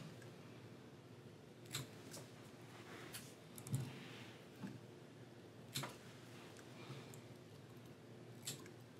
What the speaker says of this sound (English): and then we're going to trim out our excess.